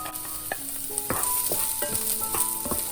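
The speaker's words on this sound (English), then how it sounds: "Just a minute stir fry. Carrots." Carrots being stir-fried for a rainbow fried rice, with a steady sizzle and repeated sharp scraping and clinking strokes of a spatula against the pan, close and busy, alongside light tonal music with no talk.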